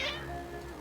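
Cats meowing in the video game Genshin Impact, a short, close meow with a bright harmonic call at the start over a steady low game background hum.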